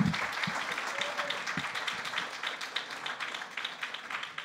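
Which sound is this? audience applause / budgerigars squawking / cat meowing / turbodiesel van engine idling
audience applause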